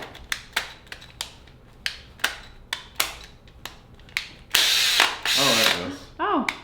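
A jammed power drill gearbox stuck out of second gear gives sharp, irregular ratcheting clicks, then bursts of a straining motor whine with rising and falling pitch near the end, recorded close.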